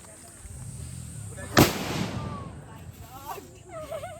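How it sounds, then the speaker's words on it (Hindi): A firecracker bomb bursts outdoors in a single loud, sharp blast with a short decaying tail, heard at a moderate distance among crowd noise during an All Souls Day gathering at a cemetery, with people talking nearby afterward. "इतना जोर फूटा क्या? नहीं, बम था।"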